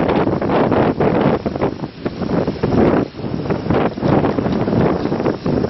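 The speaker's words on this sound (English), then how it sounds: "Очень ветрено, не знаю, слышно или нет." Strong wind buffeting a microphone outdoors on a walk through Waimangu volcanic valley in New Zealand, a loud, continuous roaring rumble with gusty surges throughout and no voices.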